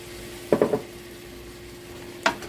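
Corn and beans tipped into a pot for githeri, with a quick cluster of three scraping stirs followed by a pause and one more stir, close and moderately loud over a low background hum.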